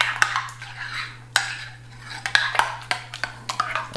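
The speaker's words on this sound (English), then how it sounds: "Make small pieces of them, as small as possible. Add that, give it a little stir." A spoon stirs chopped gherkin into a homemade burger sauce in a bowl, giving a few light scrapes and clinks against the dish, close and fairly quiet, with no one talking.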